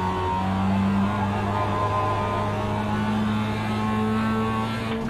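Race car engine in the iRacing sim, a steady close droning note with a held pitch that dips slightly and holds through a corner under light braking, fairly loud and alone.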